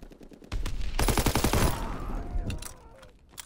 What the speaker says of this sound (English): Tommy gun 2 shots, mate.